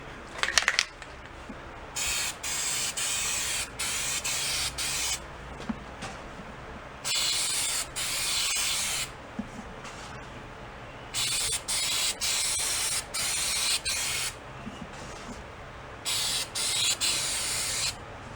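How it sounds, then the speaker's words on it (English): Several short bursts of aerosol bead sealer spray hissing close by onto a go-kart tire rim, each lasting a second or two, separated by brief quiet pauses. "I just sprayed that one spot"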